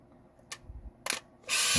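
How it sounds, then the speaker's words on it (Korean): A Canon Sure Shot EX (Autoboy Lite 2) compact film camera fires: a short click, a sharp double shutter snap, then the rising whine of the flash charging, all close and alone. "어두우면 알아서 플래시가 터집니다."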